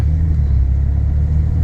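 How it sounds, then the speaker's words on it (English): A 1994 Ford F-150 pickup rumbles close by as its transmission shifts hard: a loud, steady, deep engine drone with no voices over it. "This thing shifts real hard."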